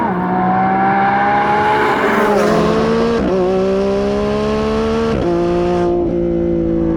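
A Lamborghini Revuelto V12 hybrid accelerates hard in thrust mode, its loud engine note climbing in pitch through several quick gear shifts, each marked by a brief dip before the next rising pull.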